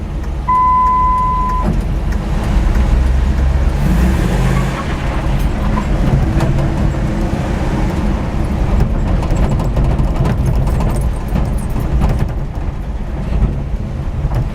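A car engine with a check engine light on, likely from a faulty O2 sensor, idles steadily nearby, a low, even rumble that holds throughout with a brief tonal beep near the start.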